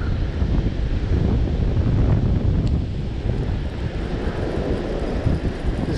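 Surf breaking on a Florida beach during a whiting fishing outing before a storm, a steady loud wash of waves under heavy wind buffeting the microphone, with no pauses.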